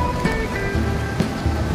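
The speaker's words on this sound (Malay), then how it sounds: "Okey, hujan je, masih hujan tengok" Rain falling outdoors near the KLCC towers in Kuala Lumpur, a steady soft hiss with scattered light patters, moderately quiet and without talk.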